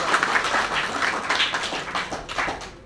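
Hands clap together in a brief burst of audience applause at a DXN seminar, a dense crowd patter of a few seconds fading out at the end.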